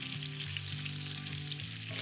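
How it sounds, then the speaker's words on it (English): Potatoes and sausages fry in butter for a Greek breakfast egg dish, giving a steady, close, continuous sizzle and crackle throughout with no voices. "The potatoes and the sausages have to be cooked before you add your eggs to this dish."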